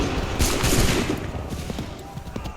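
Musket volley fire in Assassin's Creed 3, a dense crackling burst of many shots blending into a sustained roar with trailing reports, loud and close, under game ambience.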